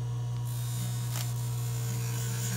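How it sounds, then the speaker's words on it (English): A pumice-impregnated rubber wheel spins on a dental lathe while smoothing an orthodontic RPE appliance, giving a steady close electric whine and hum that holds constant throughout, with no talking. "I use this as a pumice impregnated rubber wheel on the lathe here"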